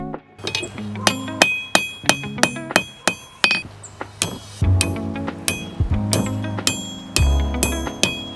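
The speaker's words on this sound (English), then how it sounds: "Just hammer it till it's thin and then curl it over." Sharp metallic hammer blows on hot metal being forged thin for a hook ring out close in an irregular rhythm, some quick pairs and some spaced, with clanging resonance after each strike.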